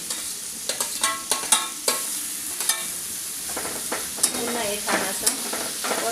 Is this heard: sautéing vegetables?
yes